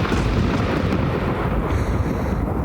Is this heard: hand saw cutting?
no